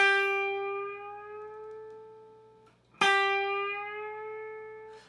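A single sustained guitar note bends upward in pitch and fades, then a second note is picked and bent up again, ringing clearly with no talking.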